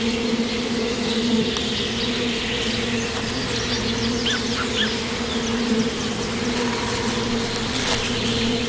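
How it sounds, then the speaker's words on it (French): Bashkir honey bees buzzing around huge hives in the Ural Mountains, a dense and continuous close drone from many insects with faint bird chirps in the background. "Les abeilles mellifères bashkirs vivent uniquement dans cette région."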